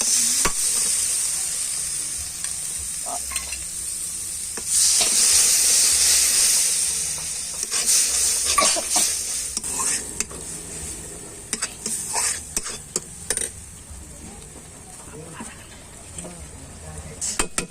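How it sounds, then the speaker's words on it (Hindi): Loud sizzling and hissing from a hot pan as spices, ginger-garlic paste and elephant foot yam are fried, with a spoon scraping and stirring in bursts; a voice speaks faintly beneath the frying. "अब इसे हम 15 से 20 मिनट तक अच्छे से चम्मच चलाते हुए भून लेंगे।"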